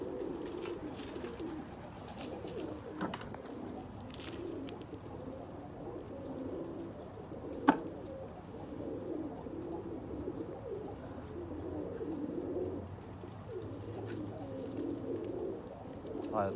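Pigeons coo steadily and continuously at moderate volume, a soft layered murmur with one sharp click partway through and no talking.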